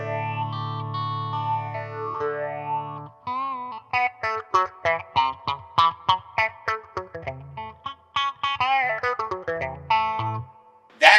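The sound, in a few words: Warm Audio Mutation Phasor II phaser at depth 10, feedback 10, rate 1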